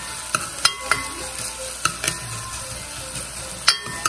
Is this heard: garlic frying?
yes